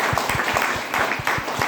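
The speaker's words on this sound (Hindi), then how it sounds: "तो ताली कर सकते हैं रिएक्शन के लिए" Audience clapping at a DXN seminar program in Gorakhpur, close and fairly loud, with a rhythmic, partly synchronized beat of hands in a brief steady burst and no talking.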